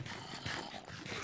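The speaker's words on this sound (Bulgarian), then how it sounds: "Чувам зомби." A Minecraft zombie gives a short, rough growl, dense and fairly close, lasting about a second.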